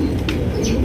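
Pigeons coo in a close, continuous chorus at Nur Alam Babu's pigeon farm, a low throaty murmur with a couple of brief higher calls rising over it.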